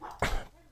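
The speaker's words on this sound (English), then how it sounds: "You may hear the dog in the background." A dog gives a single short bark or yip in a garden, a brief burst heard faintly in the background of a quiet room.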